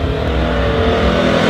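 A new motorcycle engine revs hard and continuously close by, a loud, steady roar with a sustained pitch and no pauses, heard alone.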